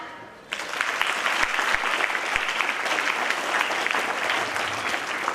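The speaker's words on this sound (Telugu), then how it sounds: "క్లాప్" Sustained applause from an audience at a school Teachers' Day celebration, starting abruptly after a brief quiet moment and continuing as a dense, even clatter of many hands.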